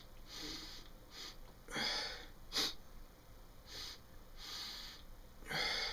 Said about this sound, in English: Here I go again with the sniffing it in my nose.